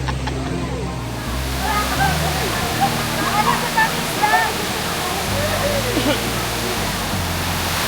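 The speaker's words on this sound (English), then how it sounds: "So this is the Labasin waterfall" A waterfall on a hydroelectric dam spillway roars loudly and steadily throughout, a dense constant rush of water with voices faintly audible beneath it.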